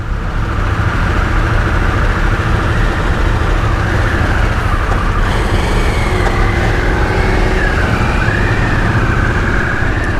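A Harley-Davidson Sportster S 1250 motorcycle rides off onto German roads, its engine a loud, continuous close-up drone with a rising and shifting pitch as it accelerates, layered over wind and road noise.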